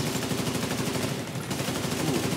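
Rapid bursts of gunfire in the video game Tom Clancy's The Division 2 rattle on continuously, loud and dense, with automatic fire layered over a steady background rumble.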